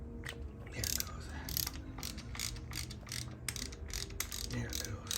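Tensioner being loosened on the engine of a 2007 Harley-Davidson Electra Glide: a quiet series of regular metallic ratcheting clicks, close and fairly faint, repeating steadily throughout with no talking.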